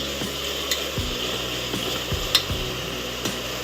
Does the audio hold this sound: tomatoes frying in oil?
yes